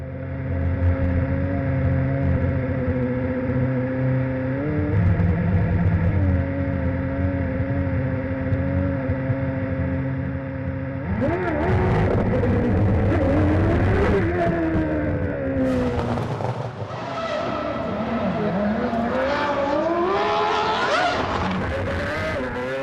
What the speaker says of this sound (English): as Nico Rosberg drove out onto the Moscow streets and into the history books.